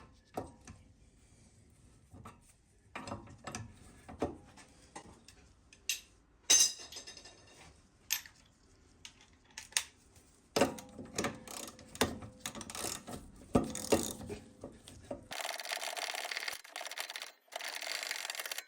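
A ratchet with a 19mm socket works the rear shock absorber bolt on a Hyundai i10, making scattered bursts of metallic clicks and clinks, denser and busier in the second half.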